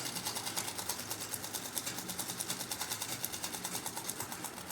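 A sewing machine stitches a semi-Patiala salwar in one steady continuous run with a rapid, even needle rhythm, moderately close and without talk.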